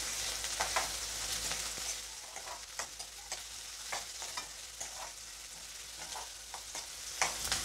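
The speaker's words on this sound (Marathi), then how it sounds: "कांदा चांगला परतून घ्यायचा।" Chopped onion with curry leaves fries for a cabbage bhaji, a continuous close sizzle broken by repeated scraping stir strokes against the pan, with no voices.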